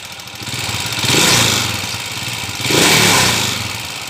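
A motorcycle engine after an overhaul revs up twice in close succession, each throttle blip rising loudly over a clattery idle and then falling back, close to the microphone with no talking.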